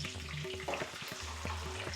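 Ground paste hitting hot oil tempering (oggarane) for a no-onion, no-garlic kothambri rice, giving a steady close sizzle and fry with light stirring clatter throughout, no voices.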